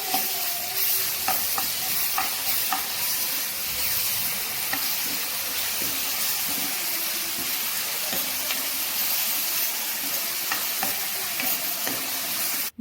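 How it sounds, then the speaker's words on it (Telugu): Onion pieces with ginger-garlic paste fry in a pan with a steady, hissing sizzle, while a spoon stirs and scrapes at intervals throughout. "తర్వాత అల్లం వెల్లుల్లి పేస్ట్ కూడా వేసి పచ్చివాసన పోయేంత వరకు వేయించాలి"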